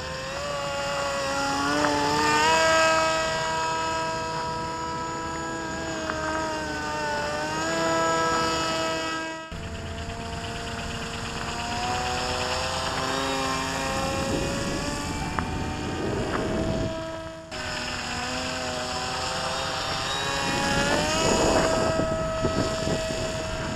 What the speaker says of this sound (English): that's a Mia Racer Gyro